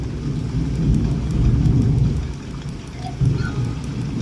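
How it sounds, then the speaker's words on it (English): Thunder rolls in a low continuous rumble during a thunderstorm, blended with a steady rain-like wash, fairly loud and unbroken for a few seconds with no talking. "And it's thundering quite bad too"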